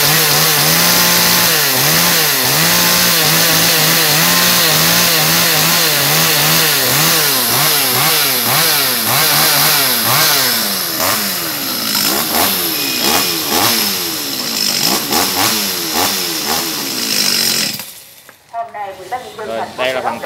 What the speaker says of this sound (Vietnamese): 4 cái mẫu máy cưa Echo